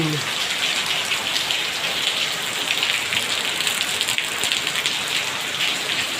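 Heavy rain pours down steadily, a dense close hiss of drops hitting surfaces with no break throughout.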